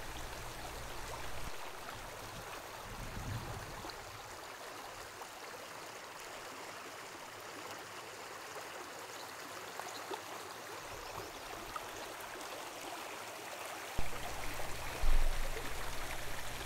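A spring creek at a trout spawning area flows steadily, a soft continuous rush and trickle of water heard up close and alone, with a brief low thump near the end.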